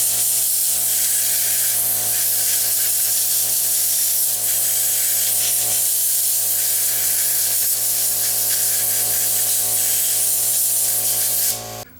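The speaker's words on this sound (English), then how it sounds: "then we can just blow the air out with the compressor" Compressed air blasting dust out of the tuning capacitor plates of a Fisher RS2007 receiver, a loud, steady, close hiss lasting nearly the whole stretch before cutting off abruptly, with a faint hum beneath and no talking.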